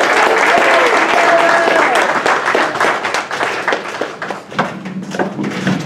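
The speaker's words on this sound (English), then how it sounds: "please give a round of applause for Miss Sierra Hall." Audience applause at a Black History Month kickoff celebration, a dense wash of clapping from a full room that stays loud throughout and thins toward the end, with voices mixed into it.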